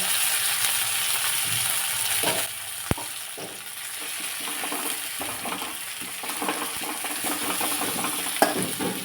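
Crushed garlic frying in a hot oil tempering for dal, a close, steady sizzle and crackle throughout, with a sharp utensil clink near the start and occasional stirring scrapes, no talk.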